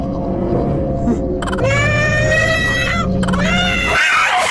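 A cat yowls in long, drawn-out, wavering cries, loud and close, several rising and falling wails in a row over background noise.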